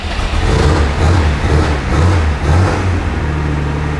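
A 1971 Mercedes 280S with a fully straight exhaust running from the engine revs loudly up close, a deep throaty rumble rising and falling in a few blips with no speech.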